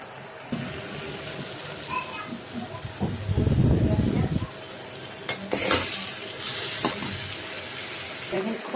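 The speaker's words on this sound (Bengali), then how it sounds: "আমি সব কিছু সুন্দর করে নেড়ে চেড়ে নিব।" Cumin powder, turmeric and chili frying in oil in a pan as they are stirred for a dried shrimp bhuna, an irregular sizzle with scraping strokes and a louder burst of frying midway.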